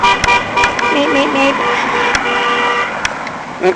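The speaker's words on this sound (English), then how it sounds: "car horn." A car horn toots in short bursts amid nearby road traffic and passing vehicles, with a voice talking faintly in the background.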